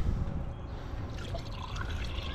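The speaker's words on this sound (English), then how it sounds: "you want to pour the water in until it looks like it's coming out of the spout" Water being poured into a car radiator during a Grand Prix restoration, a soft, quiet trickling and gurgling pour that runs steadily for a couple of seconds.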